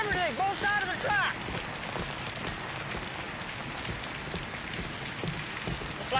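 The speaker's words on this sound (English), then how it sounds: "Looks like rain." Steady rain patters on surfaces with wind, and a voice is briefly heard at the start before the rain continues alone.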